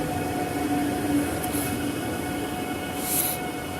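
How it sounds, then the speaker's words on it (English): A passenger train pulls into a station, its steady rumble and rolling wheel noise filling the scene at close range, with brief high brake squeals near the start and again toward the end; no one talks. "Here comes the train."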